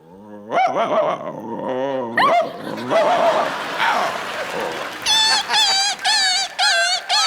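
A voice imitates dogs barking, growling and snarling as if fighting, followed by a string of rapid high-pitched yelps.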